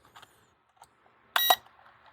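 A mini copter, the S100, gives a short electronic power-on beep, a brief bright burst in a quiet room after a few faint clicks and handling taps.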